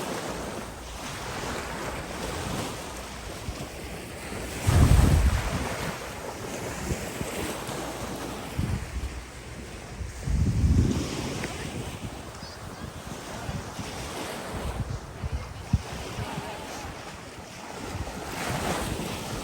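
Sea waves wash ashore at Koh Lipe beach while steady wind buffets the microphone, with two louder surges of surf rising out of a constant roar. No one speaks.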